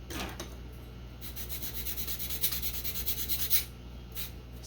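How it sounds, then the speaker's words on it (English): Sanding a model airplane nose block for a Guillow's Lancer rubber-powered build, a steady close rubbing rasp in quick back-and-forth strokes over a low background hum, with no talking. "Sand this."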